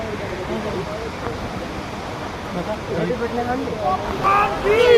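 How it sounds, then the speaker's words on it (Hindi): A Himalayan waterfall near Mana village rushes steadily, falling from a great height. The hiss of water forms a constant background under a voice talking over it. "पानी की आवाज़ भी आ रही होगी आपको गाइस"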